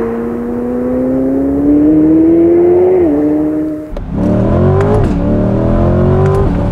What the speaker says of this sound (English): they dial in that pop on every single upshift